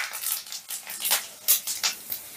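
Whole cardamom, cinnamon, dried red chilli, cumin seeds and a few black peppercorns are stirred in hot oil in a pan, giving soft scattered sizzling crackles and light scraping taps, fairly quiet and close, with no talk.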